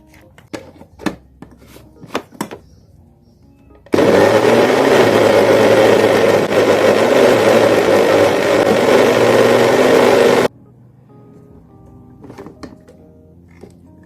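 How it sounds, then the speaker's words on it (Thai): A blender roars loudly for about six seconds blending cut mango with a little water, a steady whirring grind, framed by light clinks and knocks of kitchen utensils before and after. "ขั้นตอนต่อไปเราจะมาปั่นนะคะ"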